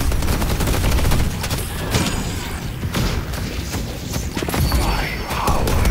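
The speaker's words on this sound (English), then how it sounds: "Putting down a turret." Rapid turret gunfire in the hero shooter Deadlock, a dense burst of shots running continuously through a loud, busy game mix of effects and impacts.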